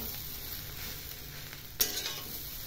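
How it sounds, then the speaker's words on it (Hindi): Upma being stirred continuously in a pan over the heat, a steady soft sizzle and scraping hiss throughout, with one sharper scrape of the spoon near the end. "लगातार चलाते रहना है"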